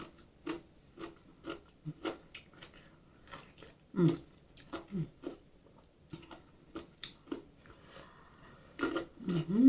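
Someone eating Thai papaya salad with crisp fresh vegetables: a run of close, loud crunchy bites and chewing, repeated steadily through the stretch, with brief murmured mm sounds between mouthfuls.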